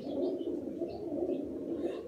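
Pigeons kept as a pair coo close by, a low rolling, continuous coo lasting a couple of seconds, with a few faint chirps above it and no talking.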